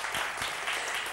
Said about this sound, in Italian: Un altro applauso, ragazzi